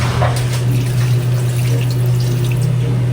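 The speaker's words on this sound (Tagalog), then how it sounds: "Lalagyan ko rin po ng kaunting tubig." Water poured into a cooking pot for native chicken adobo, a steady loud splashing pour over a constant low hum, with no talk.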